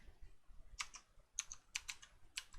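Computer keyboard typing in a quiet room, several short bursts of clicky keystrokes in quick clusters with brief pauses between, close and fairly faint.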